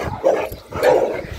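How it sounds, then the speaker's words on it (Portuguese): A big pit bull barks twice during a street walk, two close, loud, gruff woofs about half a second apart. "O cachorro caçando confusão com você."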